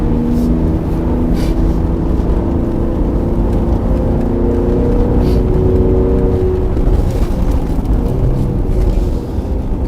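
A Mercedes GLC43 AMG with a 390-horsepower twin-turbo engine accelerates to high speed, its steady engine rumble and road whir holding loud and close throughout with no voices.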